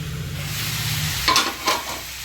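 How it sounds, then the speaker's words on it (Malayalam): Varavu seasoning fries in a pan, crackling and sizzling steadily up close. Two short bursts of spattering or stirring come near the end, and a low hum underlies the first half. "ഇതിവിടെ വറവ് റെഡി ആയിക്കൊണ്ടിരിക്കുന്നുണ്ട്"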